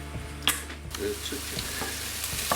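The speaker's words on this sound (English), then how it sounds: "So I'm going to add my onions. And I'm going to cook these off for around 2 minutes to allow them to soften." Onions frying on low to medium heat in a pan, a quiet steady sizzle with a few spatula clicks and scrapes, heard close without any speech.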